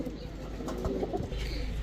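Soft low coos of Pakistani Teddy, Saharanpuri and Girribaj pigeons repeat close by, a gentle murmuring call over a dull background hum.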